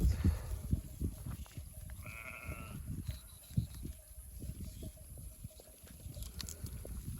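Goats bleating outdoors, a wavering cry rising over a steady background rumble with scattered clops and rustling nearby.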